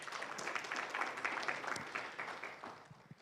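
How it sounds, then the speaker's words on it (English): Audience applause at a media and civil society conference session, a steady wash of many hands clapping that holds fairly even, then thins and fades toward the end, heard at moderate distance with no talk over it. "Let's applaud them."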